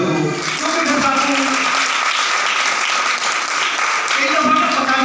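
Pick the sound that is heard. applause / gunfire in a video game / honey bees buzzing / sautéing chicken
applause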